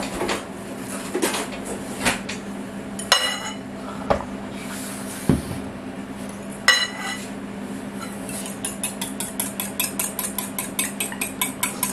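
Cream for a quiche mixed in a dish, a utensil clinking and tapping against the side in irregular strokes that become a quick, rhythmic series of light clicks near the end.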